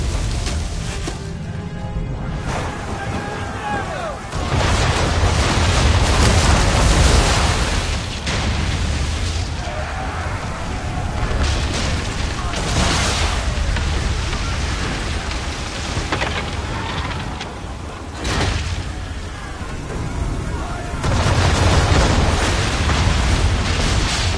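Naval battle in Assassin's Creed 3 with heavy cannon booms rolling over a constant roar of storm wind, rain and crashing waves at sea, dense and loud throughout with repeated deep blasts.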